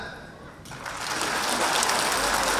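Children and an audience at a school cultural day break into clapping after a quieter moment; the applause swells and grows louder, then continues as a dense, even patter.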